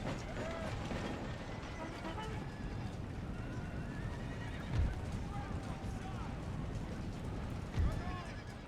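In an Empire: Total War battle, cavalry horses gallop with a continuous dense clatter of hooves, and two loud neighs and whinnies cut through the thick battlefield din.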